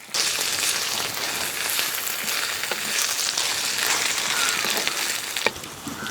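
Ginger garlic paste sizzles with onions in a pan for a home coconut curry, a steady dense frying hiss with faint stirring scrapes running throughout.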